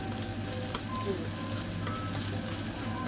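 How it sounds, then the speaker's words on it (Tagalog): Sautéing in a pan for Jollibee-style spaghetti sauce gives a continuous close sizzle and frying crackle, with a steady low hum underneath and occasional faint clicks. "habang ginigisa natin ito"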